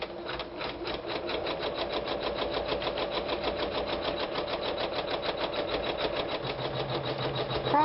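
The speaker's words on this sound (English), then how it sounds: "and start stitching" A sewing machine stitches through quilted fabric pieces with black thread at a lowered speed, an even, close mechanical chatter of needle strokes that holds steady throughout.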